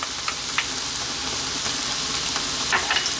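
Beef and broccoli stir-fried over high heat with oyster sauce in a hot pan, giving a loud, steady close sizzle with occasional sharper pops and crackles, no voices.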